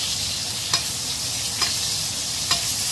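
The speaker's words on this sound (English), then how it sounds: "now we got that butter working here. Now we're just going to baste." Wagyu beef basted with butter in a hot pan: a loud, continuous hiss of sizzling fat, broken by three brief spoon clinks spaced roughly a second apart, no voices.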